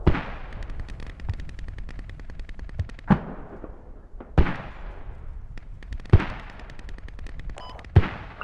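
Mortar rounds launching in the military video game Squad, several heavy booming thumps spaced a second or two apart over a dense crackle of distant gunfire, with no talk.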